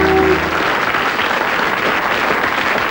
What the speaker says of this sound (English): Round of applause for Thing.